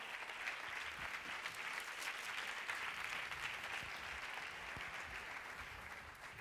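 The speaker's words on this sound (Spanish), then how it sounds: "Les recibimos por favor con un fuerte aplauso" An audience at a legal management forum applauds as panel speakers are welcomed, a continuous, even wash of clapping heard from a distance and fairly faint.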